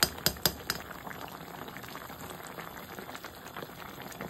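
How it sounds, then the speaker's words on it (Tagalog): Water is added to arroz caldo cooking in a pot, with a few sharp splashes at first, then a steady bubbling simmer, close and unaccompanied by talk. "Tapos lagyan pa natin ng tubig."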